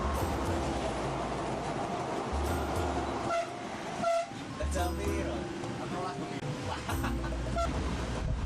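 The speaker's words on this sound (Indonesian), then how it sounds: "Kemudian KRD Pramek melanjutkan perjalanan lagi." A Prambanan Ekspress KRD diesel railcar rolls along the rails with a steady rumble and rhythmic wheel clatter, and a horn blares from close by.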